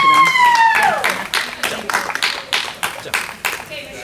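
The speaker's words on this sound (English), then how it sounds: "Let's give it a round of applause." An audience at a Boer goat show breaks into applause, with separate claps that start sparse and grow into an irregular patter following a speaking voice.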